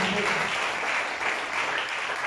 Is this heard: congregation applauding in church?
yes